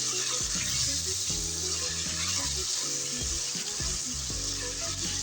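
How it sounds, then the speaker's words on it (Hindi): Onions stir-fried with potato and eggplant in a spiced masala sizzle steadily in a pan, with repeated scraping stirs and utensil knocks close by throughout, and no talking. "अब इन दोनों को अच्छे से मिक्स करेंगे।"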